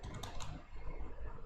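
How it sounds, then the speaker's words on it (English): Faint, quick key clicks from a computer keyboard during a coding session, a few taps with a steady low room hum beneath. "why my fingers are not typing correctly today"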